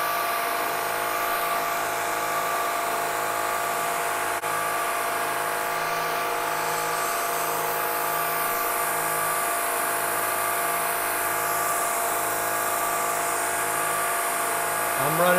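A milling machine spinning at 3,200 RPM cuts a slot with an eighth-inch cutter. It gives a steady, thin whirring hum that continues for the whole span at moderate level.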